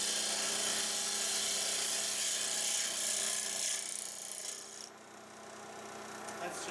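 A gouge cuts olive burl spinning on a wood lathe, giving a steady whirring, rasping scrape with a high whine that runs continuously, then eases as the cut lifts off near the end.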